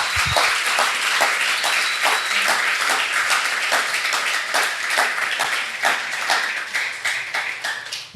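Church congregation applauding, a steady burst of many hands clapping with a rhythmic pulse, loud and fairly close, tapering slightly toward the end.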